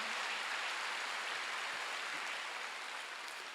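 A church congregation at a Wednesday worship service applauds in a dense, steady wash of clapping that slowly fades toward the end.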